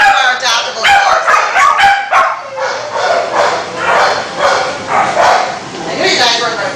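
Several dogs bark and yip loudly in a reverberant animal shelter kennel room, overlapping in a continuous chorus with some whining mixed in.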